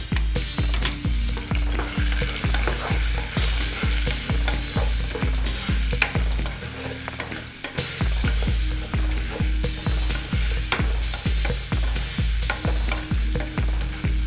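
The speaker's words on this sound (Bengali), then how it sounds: "নুন এবং হলুদ গুঁড়ো দিয়ে আমি ভালো করে আলুগুলো ভেজে দেব।" Potato pieces frying with salt and turmeric in a pan, a continuous sizzle broken by a steady rhythm of spatula scrapes and stirs, close and loud, with a brief pause midway.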